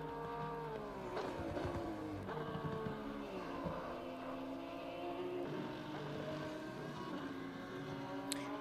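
Onboard engine of a race car lapping wet, damp Misano in Assetto Corsa Competizione, a steady droning tone that rises and falls through gear changes and braking, continuous throughout.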